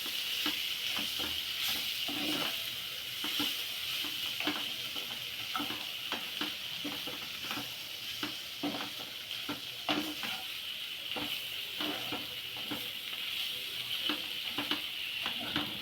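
Egg with tender tamarind leaves being stirred in a frying pan, a constant soft sizzle under rhythmic scraping and tapping of a spatula against the metal, repeated steadily throughout at close range.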